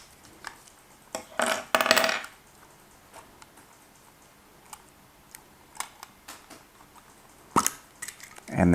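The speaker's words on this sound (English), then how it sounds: "nice little pop sound as that opens up" GoPro Hero 8 Black underwater housing with a tight seal snaps open in a couple of sharp close pops and clacks amid scattered handling clicks, with no talk.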